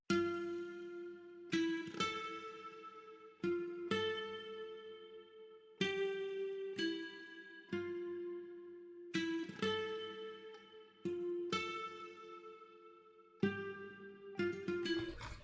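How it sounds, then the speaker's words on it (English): Plucked, guitar-like synth notes ring out in a sparse melody, each note decaying before the next, quiet and alone. "Then I made a little top melody which isn't that noticeable in the main melody"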